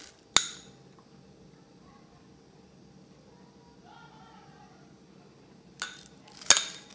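Homemade skin serum poured into a glass jar produces a sharp glass clink at the start, a faint soft liquid sound in the middle, and two more clinks near the end, with quiet background in between.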